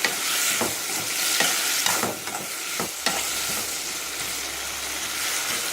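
Grated coconut sautés in a pan for Madurai mutton kola urundai kuzhambu, with a close, steady sizzle and several distinct stirring scrapes early on, continuing without talk.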